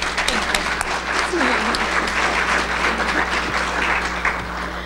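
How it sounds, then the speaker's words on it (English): An audience at a Board of Education meeting applauds for Paige, a steady wash of clapping from a room full of people lasting the whole stretch at moderate loudness. "we should all give her a round of applause for that"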